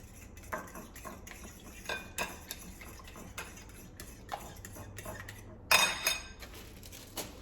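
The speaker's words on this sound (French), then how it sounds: "Et on mélange, on mélange, on mélange, on mélange" Utensil stirring seasoned food in a pan, a peppered mixture for rolled snacks, giving soft irregular scraping and clinking taps against the metal, with a brief louder clatter near the end; no talking.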